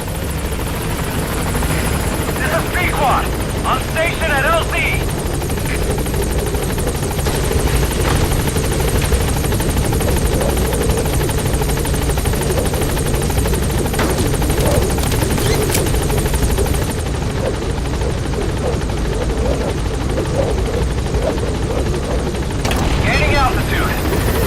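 Pequod support helicopter in Metal Gear Solid V arriving at a landing zone, rotor thumping loudly and steadily throughout, with game radio voices speaking over it.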